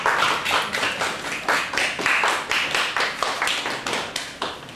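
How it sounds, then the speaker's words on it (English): Audience applause at a university spring conference, a dense, loud run of claps that pulses in a roughly regular rhythm and continues throughout. "I therefore want to ask you to put together your hands"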